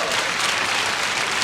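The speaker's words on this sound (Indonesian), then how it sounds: "Beri tepuk tangan buat Tuhan Yesus." A church congregation at a worship service breaks into loud, sustained applause, a dense, even clapping that fills the room from start to finish.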